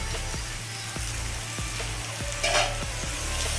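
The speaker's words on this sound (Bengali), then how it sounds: "নাড়াচাড়া করে দিলাম এর মধ্যে আমি একটু কাঁচা লঙ্কা কুচি" Boiled greens, elephant foot yam stalks, stirred in a cooking pan, with repeated scraping strokes over a steady sizzle, close and fairly loud, and no talking.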